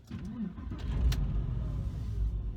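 A Porsche GT3 fitted with a DIY cold air induction kit cold-starts at close range, a brief starter whir followed by the engine catching into a steady, low rumbling idle with no talk.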